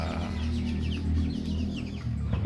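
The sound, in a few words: chicken clucking in a coop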